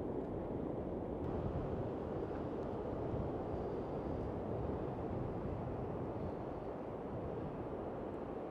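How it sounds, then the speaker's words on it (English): Strong wind buffets the microphone on an open beach during a sea fishing competition, a loud, steady broadband roar with no let-up, heard alone. "Getting very windy, I can feel the rain coming."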